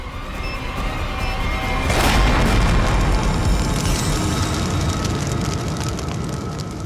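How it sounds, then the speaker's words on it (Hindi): A bomb explodes in a TV crime drama with a loud boom that rises into a broad roar and a long rumbling tail over a dense background, with no speech. "डायनामाइट बम से अलग करेंगे तो बम फट जाएगा"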